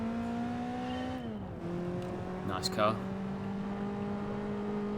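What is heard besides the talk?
race car engine in a video game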